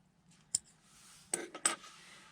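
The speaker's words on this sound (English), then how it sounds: "we can cut our white yarn." Scissors snipping white yarn during a crochet project: three quick, close, faint metallic snips with soft handling noise between them.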